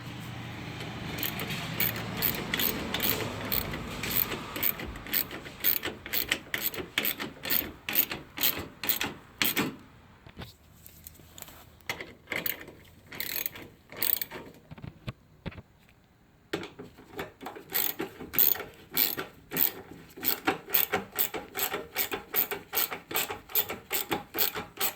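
Ratchet tightening 10 mm bolts on a Dodge Charger 3.6L Pentastar engine: rapid close clicking in bursts, pausing briefly midway, then resuming in quick repeated strokes.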